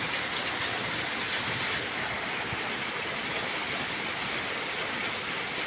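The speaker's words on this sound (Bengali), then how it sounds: "2:30 বাজে বৃষ্টি শুরু হয়েছে।" Rain falls at night in a steady, dense hiss with no breaks, evenly loud throughout and free of talk or other distinct sounds.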